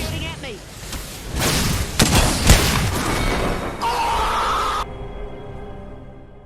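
Rapid bursts of gunfire in the Apex Legends Armed & Dangerous mode, loud and dense with thumping impacts, then they cut off abruptly into a quieter tail. A voice may be heard among the game sounds.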